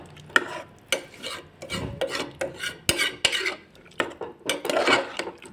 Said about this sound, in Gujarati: હવે આપણે બધું જ મિક્સ કરી દઈશું